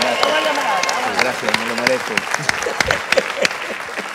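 A live audience at a Cuban comedy show applauds a comedian, loud close clapping with sharp individual hand claps while someone talks over it with a pleased remark.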